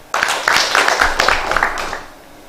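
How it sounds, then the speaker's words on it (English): Audience at a university international conference applauding, a short burst of many hands clapping indoors that starts abruptly, holds for about two seconds and then fades. "Clap for him."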